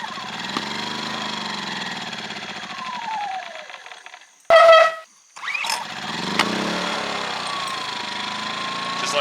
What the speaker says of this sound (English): we fired it up with the choke on, fired it up, immediately it died